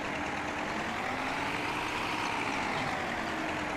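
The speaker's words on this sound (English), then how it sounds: "Got a nice, funny sounding engine." An old tractor engine idles in a farming video game on a flat Texas map, a steady low rumbling drone at constant level with no talk.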